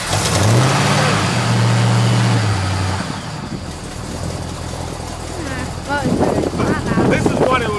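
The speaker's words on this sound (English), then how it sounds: "when you put your foot down on it, rev a little bit" A Dodge Challenger R/T with a 383 Magnum engine revs, a strong low engine note rising and holding for a couple of seconds before dropping back to a rumbling idle, with voices talking over it later.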